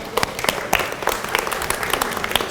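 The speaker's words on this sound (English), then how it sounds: "Let's give them a hand of applause." An audience at a camp meeting cooking demonstration applauds, a dense burst of close hand claps that continues briefly with no talk over it.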